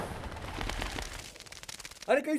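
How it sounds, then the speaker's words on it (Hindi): A single gunshot sound effect in a Hindi action film bursts out near the end, loud and sharp, following a stretch of dense, noisy action sound and scattered clicks. "अरे कहीं से गोली चलने की आवाज आई है"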